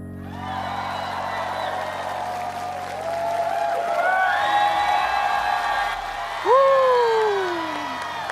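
A studio audience at a televised singing competition cheers, whoops and applauds, a sustained crowd roar that swells midway, with voices calling out over it.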